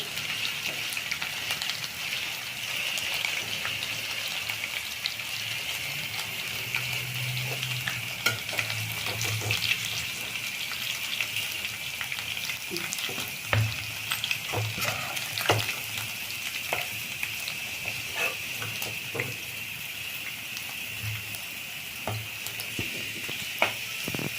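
Garlic kabab frying in oil gives a continuous bright sizzle, with occasional louder clinks and scrapes of a utensil in the pan, close and unbroken by speech.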